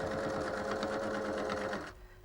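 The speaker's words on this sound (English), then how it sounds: "I'm able to sew over the top of them" A sewing machine runs steadily with a fast, even mechanical whir as it stitches along a fabric edge over pins set at right angles, then stops abruptly near the end, leaving quiet room tone.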